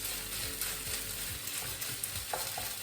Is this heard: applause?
no